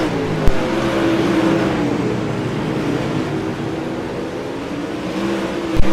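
Race cars lapping a track during a night race, a continuous dense engine roar with the pitch sweeping as cars pass, fairly loud, with a couple of sharp knocks.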